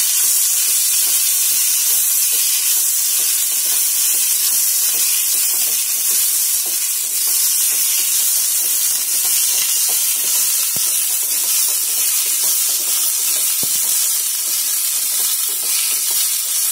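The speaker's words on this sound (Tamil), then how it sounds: "எண்ணெய் காஞ்சதும் பூண்டு சின்ன வெங்காயம் புதினா இந்த மூணையும் நல்லா வணக்கிக்கோங்க" Garlic, small shallots and mint sauté in hot oil for a goat head curry. A loud, dense hiss and sizzle runs unbroken from start to finish with faint stirring clicks and no speech.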